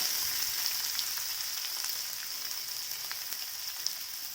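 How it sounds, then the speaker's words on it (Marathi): A large onion frying in hot oil with crackled mustard seeds, a few curry leaves, garlic and cumin, giving a steady, even sizzle with faint crackles throughout. "एक मोठा कांदा घेतला आहे मी आणि चांगला लालसर भाजून घ्यायला"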